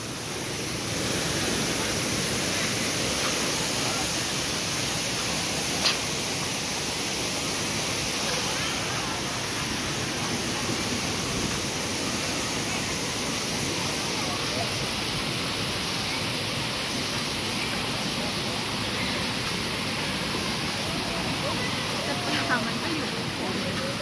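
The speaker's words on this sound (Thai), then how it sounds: "น้ำตกเจ็ดสาวน้อย" Broad, constant rush of falling water from Jed Sao Noi waterfall in Muak Lek, Saraburi, a steady hiss heard close and unbroken throughout.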